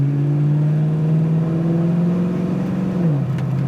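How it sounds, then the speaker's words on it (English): A steady, loud engine drone from a 1969 Chevy Camaro V8 with dual exhaust and a low exhaust rumble, holding a constant pitch before dropping slightly near the end. "really good sound and dual exhaust"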